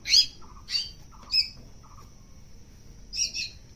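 A motherless baby bird in a cage calls in short, sharp squawking chirps, four bursts spaced irregularly, fairly close and alone against a quiet background.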